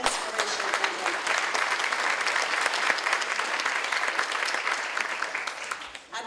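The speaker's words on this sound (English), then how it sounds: "let's give another round of applause for our distinguished Men of Inspiration and Impact" Gala audience applauding honorees at a Links Beautillion Militaire, a full, sustained round of clapping from a large crowd that holds strong before tailing off at the end.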